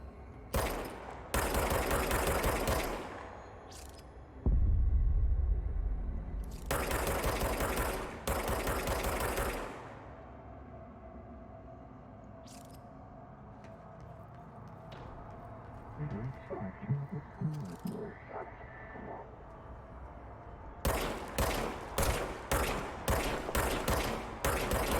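Gunfire in the game Control, long sustained bursts of rapid shots in several loud stretches separated by quieter pauses, ending with a run of rhythmic single shots; a voice talks in between.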